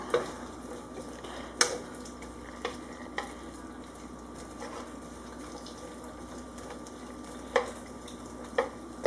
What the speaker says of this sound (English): all we're going to do is we're going to kind of toss them in the oil so everything's well coated